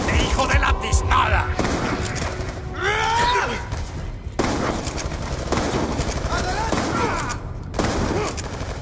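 Gunfire in the Call of Duty Black Ops II mission Suffer With Me, repeated loud bursts and shots mixed with game voices, music and impacts across the stretch.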